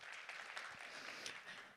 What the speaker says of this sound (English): Let's give Hot Sauce by Hotjar a round of applause.